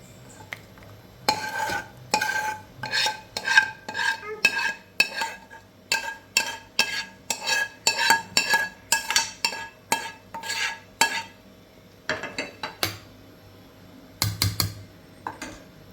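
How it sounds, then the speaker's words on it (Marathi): Cooked stuffed ridge gourd curry is transferred into a pot, heard as a quick series of metal spoon scrapes and clinks against the vessel in uneven bursts, close and fairly clear, with a short pause before a final few scrapes. "एका भांड्यामध्ये आपण भाजी काढून घेऊ"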